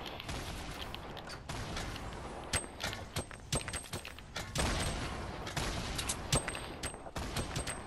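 Gunfire in a Fortnite duo match: scattered sharp shots and short bursts at moderate distance, irregular in rhythm, mixed with building and impact clatter and occasional high tones.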